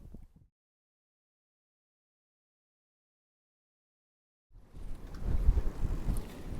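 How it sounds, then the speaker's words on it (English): Wind gusts buffet the microphone at the harbour in Kilrush, a rough low roar that stops abruptly and then returns strongly for the last two seconds. "Windy day here in Kilrush."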